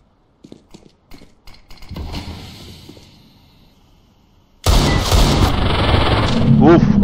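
Sharp video-game gunshots crack at the start, then a dense, loud burst of rapid gunfire and mechanical clatter takes over in the second half.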